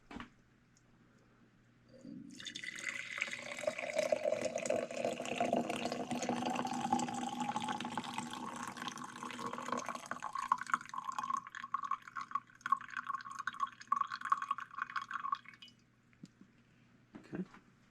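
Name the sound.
pouring brewed chaga tea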